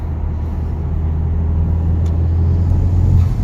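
A 2019 Honda Civic Type R engine hums steadily while driving toward a roundabout, with a smooth, low, continuous drone and road rumble and no speech.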